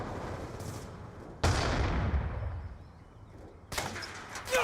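Gunfire in a video game, a few sharp sudden blasts, each trailing off into a long fading echo, with quieter stretches between them.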